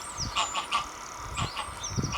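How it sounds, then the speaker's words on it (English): A few geese honking as they fly over a farm in Suffolk, England, in short scattered calls, faint and a little distant, with outdoor ambience between them. "A couple of geese going over, just going over the farm there."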